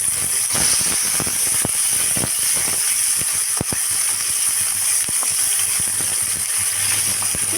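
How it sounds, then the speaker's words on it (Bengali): Capsicum and panch phoron crackle and sizzle in hot oil, a steady close hiss broken by frequent sharp pops and spits throughout. "তেলের মধ্যে পাঁচফোড়ন আর ক্যাপসিকাম দিয়ে"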